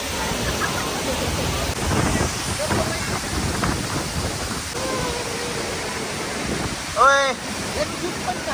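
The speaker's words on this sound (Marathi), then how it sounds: "घरचा छोटा धबधबा आणि मोठा पण धबधबा आहे" Constant rushing roar of a waterfall in Satara, broad and steady, with faint voices and a short chirping sound partway through.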